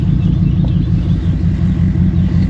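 A loud, low truck engine idles with an uneven, lumpy rumble from a cylinder misfire, close and continuous.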